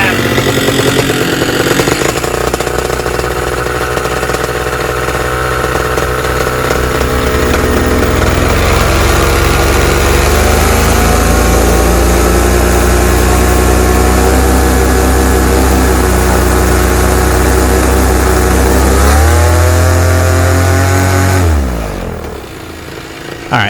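Moster 185 paramotor engine, freshly tuned on the carburetor high jet, revving smoothly from idle to a loud sustained roar held for many seconds, then dropping off and cutting out near the end.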